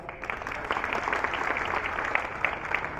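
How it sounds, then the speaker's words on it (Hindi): Audience applause at a BJP workers' conference, a steady dense wash of clapping from a crowd that holds evenly for the whole stretch without letting up. "एक बार जरा जोर से ताली बजाओ"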